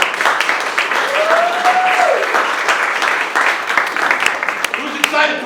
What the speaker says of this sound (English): give a big round of applause for the true future of Nuku